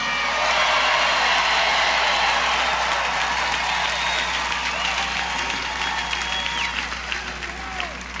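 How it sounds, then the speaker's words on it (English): A large rally crowd applauds a senator being introduced in Springfield, Illinois, a dense, sustained roar of clapping and cheering that fills the whole stretch and fades slightly toward the end. "Please give a big round of applause to the senior senator from the great state of Illinois"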